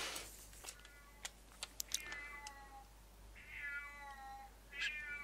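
A cat meows several times indoors, quiet and close, its drawn-out calls coming among faint clicks that sound like keyboard typing.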